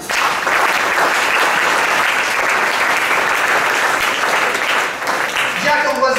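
A church congregation claps and cheers in a steady, loud wash of applause that fills the room, with voices mixed in and a preacher talking near the end.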